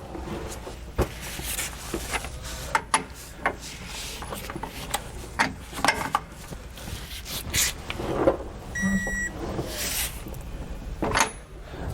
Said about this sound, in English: I'm going to torque the U-bolt nuts down to the manufacturer's specification.